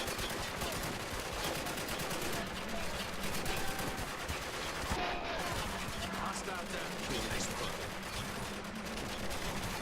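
Suppressed gunshots from a silenced weapon in the war shooter Spec Ops: The Line, set aboard an aircraft fuselage, buried in a dense, continuous wash of game noise with people talking over it.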